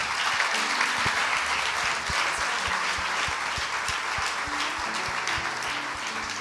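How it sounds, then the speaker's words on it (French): Women in a church congregation applaud the men, dense sustained clapping filling the room at an even level throughout, with no talk over it. "Mesdames, applaudissez les messieurs."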